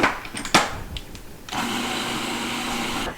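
A kitchen mixer starts up partway through and runs with a steady, loud whirring drone while blending pesto with a teaspoon of salt, after a few brief clanks and knocks.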